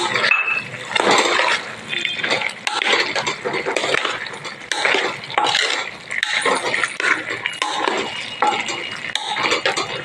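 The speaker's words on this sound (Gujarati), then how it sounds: "હવે આપણે મસાલો પલાળ્યો છે નાખી દઈશું, મિક્સ કરશું" A spoon stirs soaked spice mix into a potato and green onion curry in a pot, with repeated scraping and clinking strokes in an irregular rhythm, close and fairly loud, with no voices.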